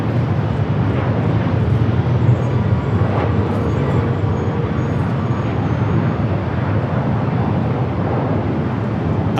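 An airliner departing on the south side of Los Angeles International Airport roars continuously, a steady broadband jet rumble heard from a distance with no talk over it.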